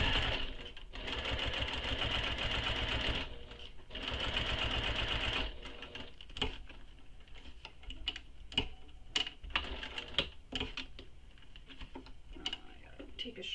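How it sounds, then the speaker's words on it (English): A sewing machine top stitches around a fabric mini backpack, running in two steady, loud whirring stretches, then stopping and starting in short bursts with clicks between. "So top stitch all the way around."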